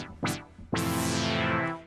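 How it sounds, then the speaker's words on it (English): An 80s electronic funk track plays a synth brass riff, two short bright stabs and then a long swelling held chord that fades at the end, loud and alone without talk. "And then we've got the brass riffs."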